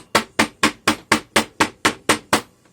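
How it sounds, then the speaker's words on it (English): Ten evenly spaced, sharp hammer blows pack Delft clay into a casting mold for red clay casting, a steady rhythm of close, loud strikes with no talk. "Got to hammer it down really good."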